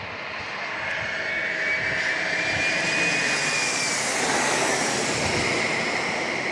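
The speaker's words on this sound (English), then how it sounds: "E175 is landing next." An Embraer E175 jet landing at San Diego International Airport, its engine whine swelling from a moderate level to a loud, sustained rumble with a high tone gliding downward as it passes close by.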